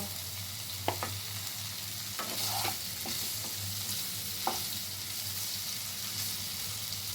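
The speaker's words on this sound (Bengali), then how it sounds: "এক চামচ বাটার দিয়েছি, পনিরগুলো এতে আমি ভেজে তুলে নেব।" Paneer pieces frying in a spoonful of butter in a kadai give a steady close sizzle throughout, with a few soft utensil clicks and no talking.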